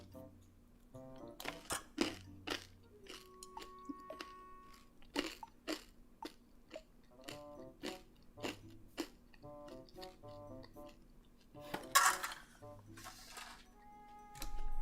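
Dinner is eaten up close with quiet crunching bites and chewing, broken by occasional light clinks of cutlery against dishes, all faint and irregular.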